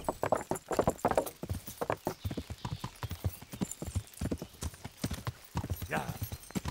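Horse hooves clip-clop at a steady riding gait in the medieval game Kingdom Come: Deliverance, the rhythmic beats close and continuous, with a voice also present at times.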